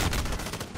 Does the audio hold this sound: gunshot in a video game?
yes